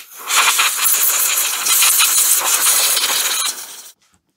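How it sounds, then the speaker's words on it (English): Compressed air blasts dirt off a Makita BHX2500 four-stroke leaf blower around the carburettor, a loud continuous close hiss lasting several seconds with slight fluctuations, then cutting off abruptly into quiet. "I'm just going to clean off around the carby and around the rest of the machine just with some compressed air"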